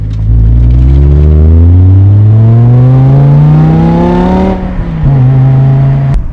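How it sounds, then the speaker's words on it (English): A BMW E60 M5 pulls hard under acceleration, its loud engine note climbing steadily in pitch, easing briefly at a gear change, then pulling again, close and with no talk. "now that you know all about the E60 M5 and specifically this E60 M5, I think it's time we go for a short and hopefully trouble-free drive"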